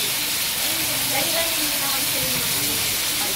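Chayote being sautéed in a pan hisses and sizzles steadily as soy sauce and oyster sauce are poured in, a continuous close frying hiss with a voice speaking faintly beneath it.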